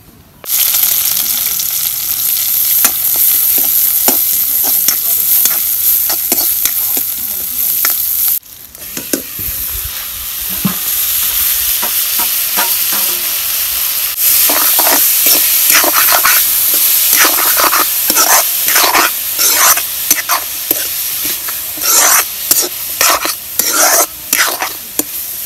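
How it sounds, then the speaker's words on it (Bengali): Tomatoes and carrots fry in oil while being stirred, a steady loud sizzle with frequent scraping strokes throughout, a brief dip partway before the sizzling and stirring pick up again. "টমেটো আর গাজর ভাজা হয়েছে, এখন আমি পাস্তা দিয়ে দিই।"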